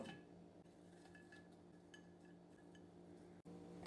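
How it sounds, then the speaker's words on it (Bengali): Thinly sliced onions placed into a glass jar, faint clinks and light taps of glass and utensils in a quiet room. "কাটা পেঁয়াজগুলো একটা কাচের বয়মে ভরে দিব।"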